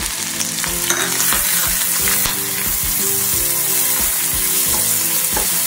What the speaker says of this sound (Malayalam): ഇത് മൂന്നും കൂടെ നമുക്ക് ഇതിലോട്ട് ഇട്ട് കൊടുത്തൊന്ന് വഴറ്റിയെടുക്കാം